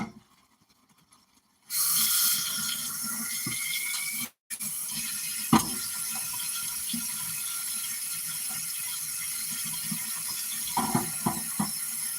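Water runs steadily from a kitchen tap during hand washing while homemade food is being prepared. The rush starts suddenly, briefly cuts out, and returns as a constant hiss with a few faint clinks.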